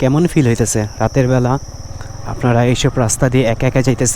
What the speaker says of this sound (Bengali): আপনারা হয়তো বা ঝিঝি পোকার ডাক শুনতে পারতেছেন